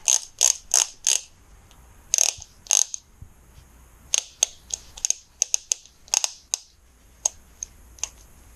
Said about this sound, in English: Little extension. And a torque wrench.